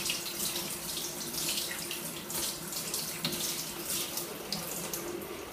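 Tap water runs steadily into a sink while paint brushes are rinsed, a continuous, close splashing hiss without pauses.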